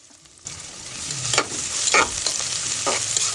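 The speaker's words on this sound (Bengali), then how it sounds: "পেঁয়াজটা একটু ভালোভাবে নাড়াচাড়া করে নেব" Chopped onion frying in hot oil for a crab curry, a steady close sizzle with several scraping stirs of a spoon against the pan, no voices.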